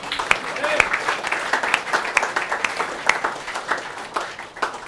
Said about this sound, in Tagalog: Palakpak po para sa bawat isa.